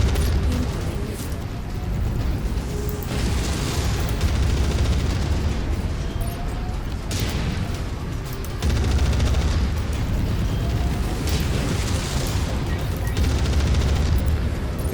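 Missile explosions in the mech combat game MechWarrior 5: Mercenaries land as repeated heavy booms with rumbling tails, spaced a few seconds apart over continuous battle noise, loud and close, with no speech.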